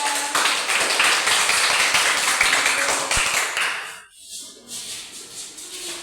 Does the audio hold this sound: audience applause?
yes